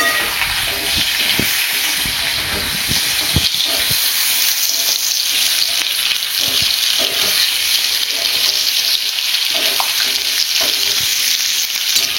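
Vegetables for a pumpkin and pointed-gourd dish sizzle loudly in fish-flavoured oil, a dense continuous frying hiss with intermittent stirring scrapes and clatter, close and unbroken.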